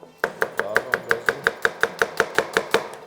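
A knife chops through a boiled, cleaned lamb tongue on a board. Sixteen crisp, evenly spaced strikes come at roughly five per second, close and clear with no talk.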